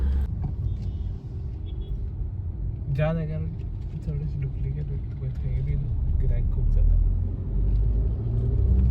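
Car driving in slow road traffic: a constant low engine and road rumble from inside the vehicle, with occasional passing traffic. People talk throughout.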